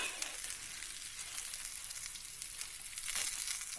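Mushrooms sizzle in a pan on a camp stove during a winter backpacking trip in Arizona, a steady, fairly quiet crackling hiss that carries on evenly with a few brief louder bursts.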